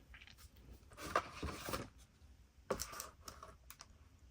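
Typing on a portable wireless laptop keyboard case, heard as quiet bursts of key clicks in two main clusters with scattered taps between, close and fairly faint with no talking.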